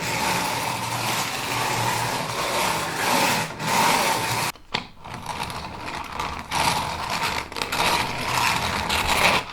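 A spiked wallpaper scoring tool rolled gently over wallpaper on a plaster wall to perforate it, giving a steady close scratchy, ratcheting rasp with a brief pause midway.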